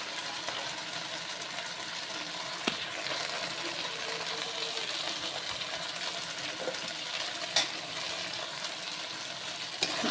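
Chicken curry spice paste with turmeric and salt, made with little oil, sizzling steadily and softly in a pan. Faint stirring clicks come through now and then, and no one speaks.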